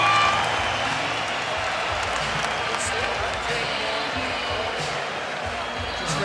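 Boxing arena crowd cheering at the Jeff Horn vs Manny Pacquiao WBO welterweight title fight, a loud continuous roar of noise that holds steady throughout, with a commentator's voice faintly underneath.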